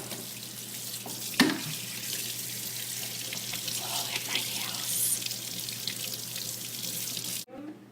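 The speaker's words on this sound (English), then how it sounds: "wash your fingers off" Water runs steadily from a tap as fingers are rinsed at a kitchen sink, a continuous close hiss with a brief knock near the start and a sudden stop at the end.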